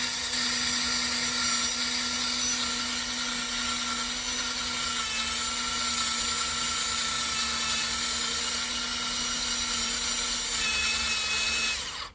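A power drill whines steadily at high speed for several seconds without a break while drilling a hard Mauser rifle action, loud and close, then cuts off at the end.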